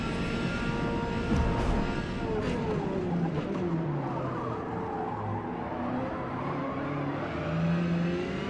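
Corvette C8R race car engine at Suzuka in a racing video game, a steady loud drone that climbs and drops in pitch with gear changes, close and continuous throughout.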